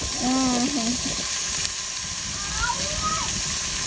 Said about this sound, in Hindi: ये फुल ऑयल में फ्राई हो रहे हैं